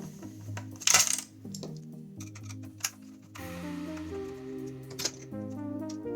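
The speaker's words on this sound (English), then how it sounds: "if we remove these two screws, the LCD will come out" Small screws come out of the LCD of a JBL OnTime 200P docking speaker, with light metallic clinks and one bright clatter early on, all under steady background music.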